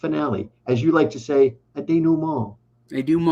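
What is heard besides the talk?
No everyday noises stand out.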